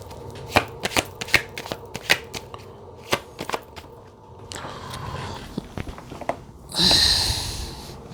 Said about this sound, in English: let me pull some cards on that Two of Wands